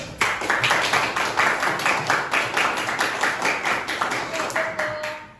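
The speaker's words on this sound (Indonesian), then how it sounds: "Tepuk tangan untuk 8B." A school class of grade 8 students applauds together, a run of brisk, close hand claps lasting several seconds, with voices heard briefly alongside.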